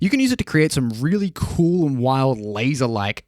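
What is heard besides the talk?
No everyday noise stands out behind the speech.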